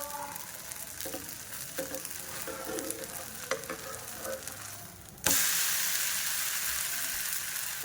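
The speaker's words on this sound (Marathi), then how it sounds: "दुसरी साईड पण भाजून घेत आहोत" An oats chilla crisps on its second side in a pan with a soft, steady sizzle that jumps louder near the end as it's flipped or pressed, with faint clinks of a spatula earlier.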